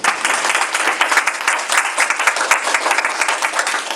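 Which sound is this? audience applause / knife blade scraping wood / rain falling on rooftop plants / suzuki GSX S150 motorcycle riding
audience applause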